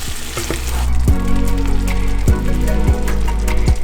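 Tomato purée with cumin, dried shallots and garlic salt sizzles loudly in a frying pan while a utensil stirs it, several distinct knocks against the pan breaking up the constant crackle.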